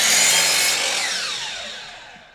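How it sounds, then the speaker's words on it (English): Power saw finishing a miter cut through MDF moulding: a loud, close, high whining rasp that winds down and fades over about two seconds, with no voices. "So when I cut to a short point in a miter,"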